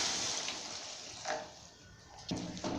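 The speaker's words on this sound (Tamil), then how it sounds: "இப்போ வந்து குழம்புக்கு தேவையான அளவு தண்ணி சேர்த்துக்கலாம்." Water poured into a pan of snake gourd and tomato kulambu: a soft, steady splash and trickle up close, swelling briefly in a couple of gushes, with no voices.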